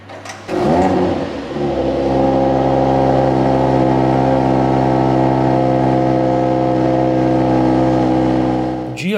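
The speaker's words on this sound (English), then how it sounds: "And we have also the AMG Performance exhaust system here in this car, so you can have a better sound out of this vehicle." A Mercedes-AMG GLE 63 S Coupe with the AMG Performance exhaust fires up with a sharp start flare, then settles into a loud, steady, deep engine rumble that holds for several seconds before a final blip.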